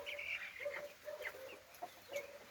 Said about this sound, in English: 3 weeks old boiler chickens.